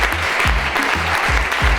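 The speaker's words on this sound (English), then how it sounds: "Give yourselves a big round of applause" An event audience applauds in continuous dense clapping, close and fairly loud, with a steady rhythmic beat of music running beneath it.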